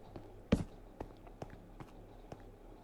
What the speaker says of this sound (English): you could hear footsteps on the stone behind him